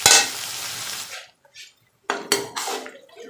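Onions sizzle loudly in hot ghee at first, then short bursts of frying and stirring come and go with quiet gaps between them.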